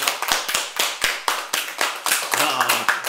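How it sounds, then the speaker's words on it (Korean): Scattered audience clapping at a Korean presidential candidate's special talk event, uneven individual claps in a small room, with a voice speaking over them near the end. "아이고, 박수!"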